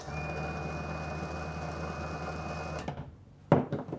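A Badland ZXR 3,500 lb electric winch motor whirs steadily up close for a few seconds, then stops, followed by a couple of brief clunks.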